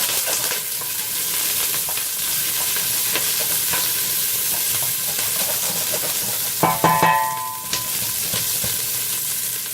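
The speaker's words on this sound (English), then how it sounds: "Give that a little stir." Onions and garlic sizzle steadily in olive oil in a home kitchen pan, a dense continuous frying hiss with a few louder scraping stirs near the end.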